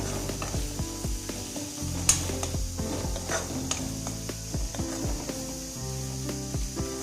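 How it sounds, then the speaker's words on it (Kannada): Garam masala, cumin powder and other ground spices fry in a hot pan for a methi paneer masala, giving a steady sizzle with repeated scraping stirs of a spoon. The stirring is close and fairly loud, and no one speaks. "ಎಲ್ಲ ಹಾಕಿ ಚೆನ್ನಾಗಿ ಫ್ರೈ ಮಾಡ್ಕೋಬೇಕು"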